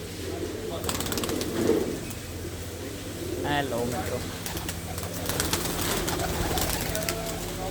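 Pigeons settle on perch rods and coo softly in low repeated calls, with a brief flutter of wings, while someone talks over them in Punjabi.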